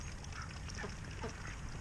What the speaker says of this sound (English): That's a happy duck.